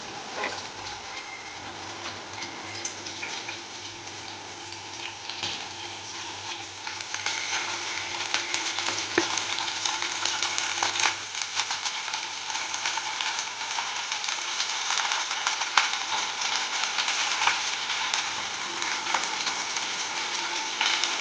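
Chicken frying with fresh grated coconut and coriander for a kharda fry, a continuous broad hiss and sizzle that swells slightly partway through and holds steady, close and fairly loud, with no speech.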